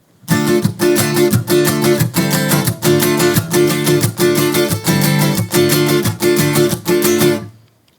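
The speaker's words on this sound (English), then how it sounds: "going back to our straight feel" Steady rhythmic strumming on guitar in an even, straight pulse, full and loud, with regular chord hits repeating throughout before a quick fade.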